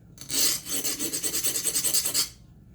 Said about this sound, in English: what I'm doing is just rubbing it on this file like so